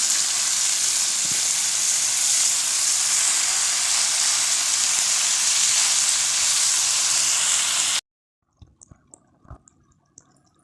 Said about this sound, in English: I'm gonna go ahead and cover it and let it steam for 15 to 20 minutes